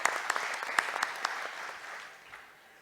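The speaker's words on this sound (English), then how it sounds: "So let's give a big round of applause to him as well." Applause at a shipping industry conference panel, a short burst of clapping from a modest audience with a few sharp, close claps, tapering off and dying away within a few seconds.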